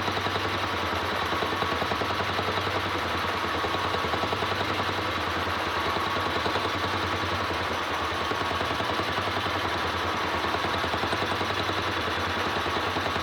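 Electric motor of a 1948 Logan 200 lathe running steadily, a continuous even hum with a faint mechanical rattle, close and unbroken throughout with no talk.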